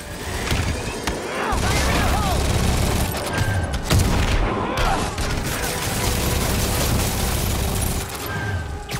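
Explosions and gunfire in the Marvel's Spider-Man video game roar loudly and continuously, with booms, crackling debris and a game character's voice shouting over the chaos.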